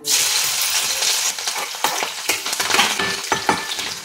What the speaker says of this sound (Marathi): तर मेथीची भाजी फोडणीला टाकली.